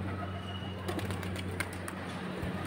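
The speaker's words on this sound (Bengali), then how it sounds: "এই যে এই কবুতরগুলো এখন মাত্র বের হলো" Pigeons coo softly at a market stall where pairs are sold, low murmuring calls over a steady background hum, with faint rustling and a possible voice nearby.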